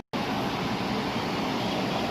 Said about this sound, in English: Sorry for the fan noise, but it helps keep the barn cool.